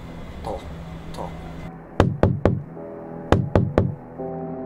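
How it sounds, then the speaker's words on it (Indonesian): Knocking on a wall from the inside, slow but friendly: two clear sets of three sharp knocks, close and distinct, over a faint low background hum. "aku mendengar suara dari seseorang mengetuk-ngetuk dinding dari dalam pelan tapi ramah. Tok, tok, tok."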